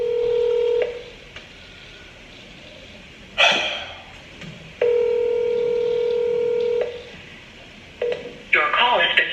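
Telephone keypad dialing: a few short touch-tone beeps, then long steady ringback tones repeating with gaps, broken by bursts of rustling and noise near the end, with faint voices underneath.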